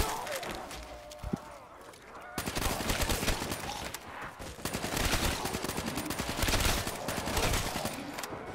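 Dense AK rifle fire in Black Ops 3 Zombies, with repeated rapid bursts and automatic volleys that run almost continuously, loud and close, alongside game noise and a brief voice.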